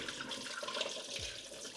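Running water splashes and pours briefly from a tap, rinsing peeled yellow yam in a sink, close and steady.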